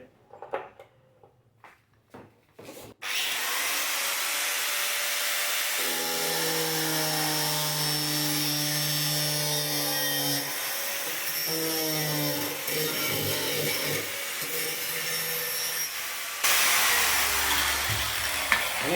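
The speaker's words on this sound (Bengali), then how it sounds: "এটাকেও কেটে দেবো এই মেশিন দিয়েই কাটা যাবে" A power tool cuts into an old plastic water tank, starting after a few handling knocks into a loud continuous whine with shifting tonal pitches as the blade bites, close and steady for most of the span.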